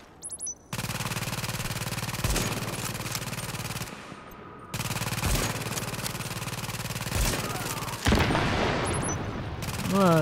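Sniper and turret fire in The Division: long stretches of rapid, loud automatic gunfire broken by brief pauses, with heavier single cracks punctuating the bursts and a few electronic beeps at the start and end.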